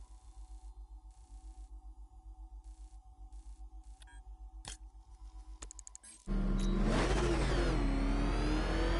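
Batmobile engine in the video game Batman: Arkham Knight: a steady pulsing engine drone builds, then breaks into a sudden, loud, sustained rev with a rising whine, with no talk.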